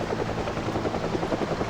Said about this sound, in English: it's just too hectic with that chopper out